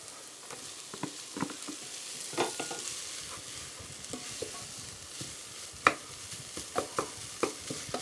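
Leftover cooked beef frying in a pan, a steady close sizzle broken by scattered clicks and scrapes as it is stirred, no voices.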